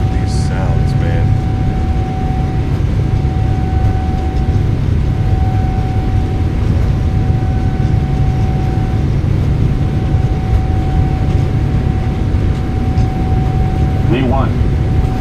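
Jet engines of a PMDG 777F freighter at takeoff power in a flight simulator, a steady loud roar with a constant whine held throughout, while a voice talks over it.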